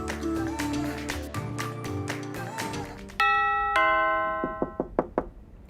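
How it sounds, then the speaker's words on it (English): A doorbell sounds with a two-tone chime that rings out and decays, preceded by busy musical sound and followed by several sharp knocks on a door. "someone's knocking at the door, someone's ringing the bell"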